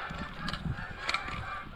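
Geese honk during a goose hunt, a dense chorus of overlapping calls from a large flock, with a couple of louder bursts rising above the steady background clamor.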